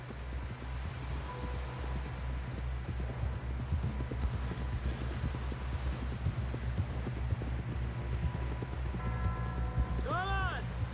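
Steady clip-clop of a horse galloping in Red Dead Redemption 2, rhythmic hoofbeats over a low rumbling game soundtrack with voices talking, and a brief whinny near the end.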